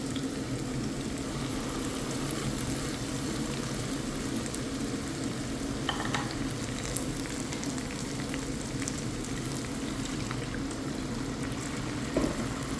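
Onions frying steadily in a pan for an Indian ulli theeyal, a continuous soft sizzle and bubbling with a few brief stirring clinks as spice paste is mixed in, no voices.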